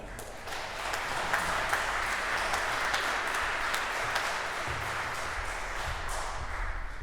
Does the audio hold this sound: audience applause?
yes